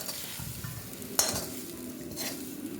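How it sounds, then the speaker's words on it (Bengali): Fried vegetables with turmeric and salt scraped and tipped from a pan onto a plate; soft steady sizzle with spoon stirring and one sharp metallic scrape, close and fairly quiet, no voices. "ভাজাটা হয়ে গেছে, এবার আমরা থালাতে ঢেলে নিচ্ছি।"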